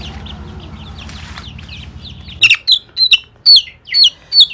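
Chicks being given Ranikhet vaccine drops in the eye cheep in a run of sharp, high, repeated calls, close and clear, after a brief stretch of low background hum and faint chirping.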